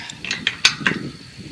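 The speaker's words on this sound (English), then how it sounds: "now I just have to tighten on the other side of the lag bolt" A ratchet wrench tightening a nut on a lag bolt at a farm gate hinge, giving a quick run of about five sharp metallic clicks, close and fairly loud.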